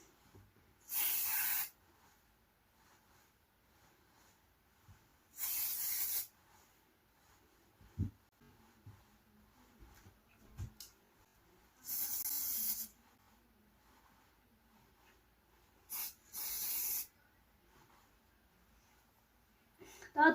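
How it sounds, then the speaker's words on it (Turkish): Hair spray hisses in four or five short bursts of about a second each, close and fairly loud, with quiet gaps of faint rustling and handling between them. "Saç spreyi sıxacağım."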